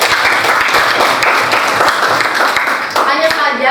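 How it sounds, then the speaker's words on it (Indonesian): A class of people clapping together, steady dense applause that fills the room for several seconds, with a few voices mixed in toward the end. "Tepuk tangan dulu untuk Jason deh"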